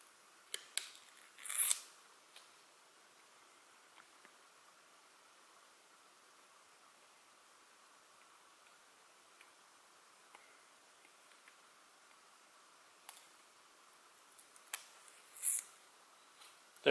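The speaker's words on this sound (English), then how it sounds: "this also has a plastic film on it that you'll want to remove on both sides" Protective plastic film peeled off both sides of a magnetic dust shoe's viewing window, heard as a few faint crackling peels near the start and end with quiet rustling between, close and without talk.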